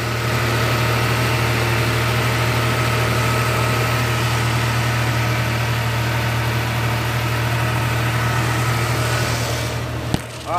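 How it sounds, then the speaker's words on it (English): A 1995 Toyota 4Runner petrol engine idles steadily after startup, a constant low hum with mild vibration, close and alone, with a brief clunk near the end. "I'm gonna let this thing run for 5 minutes"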